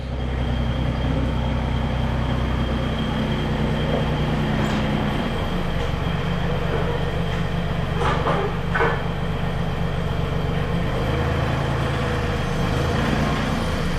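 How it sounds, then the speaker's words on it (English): A tractor drives around a garden property, its engine a steady low rumble that continues throughout at moderate distance, with a few faint higher clatters partway through. "Wyatt is bringing around the tractor"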